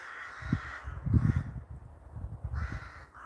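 Several crows caw repeatedly in ragged bursts, a roosting flock calling from a short distance above a historic churchyard at dusk, with overlapping harsh calls and no talking.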